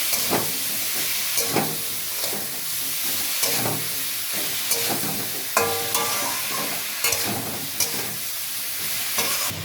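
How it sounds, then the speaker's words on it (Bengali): Spices sauté with cauliflower, tomato and green chillies in a pan for moong dal, a loud close hissing sizzle under repeated rhythmic stirring scrapes of a spoon, with no one talking. "এবার ভালো করে মশলাগুলোকে এবার কষিয়ে নেব কপি আর টমেটোটার সাথে।"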